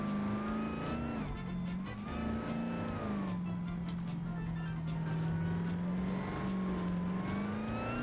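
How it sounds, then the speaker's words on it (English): Supercharged Dodge Demon engine revving loudly and steadily up close, a droning tone that rises and falls over eight seconds with supercharger whine, no talk. "I know you guys wanna hear the supercharger."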